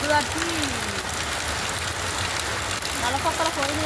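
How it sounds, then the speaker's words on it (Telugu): Heavy rain pours down in Kamareddy as a steady, dense hiss that fills the whole stretch, with a voice faintly speaking underneath. "వర్షం ఇంకెక్కువ అవుతుంది"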